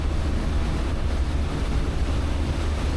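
A Boston Whaler 365 Conquest slowing and swinging around on open water near a beach, with a steady low engine rumble, hull splash and wind rush filling the whole stretch, close and loud, no voices.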